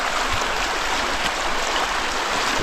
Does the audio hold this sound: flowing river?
yes